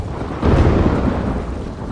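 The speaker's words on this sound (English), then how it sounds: "Lightning flashes over Shang Tsung's caravan at night." Thunder rumbles over a caravan at night, a deep rolling boom that swells after a brief moment and then lingers as a low, steady roar.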